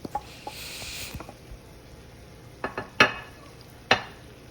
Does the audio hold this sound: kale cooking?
yes